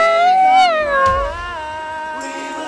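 A woman imitates a kitten with a long, wavering, high-pitched meow that slides downward, followed by a quieter trailing tail, close and clear.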